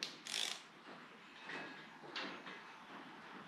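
Faint mechanical clicking bursts from a ratchet turning a Toyota 1UZ-FE V8 engine by hand back toward top dead centre, a few short separated pulls in a quiet workshop.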